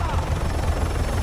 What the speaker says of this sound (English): Watch out for that chopper!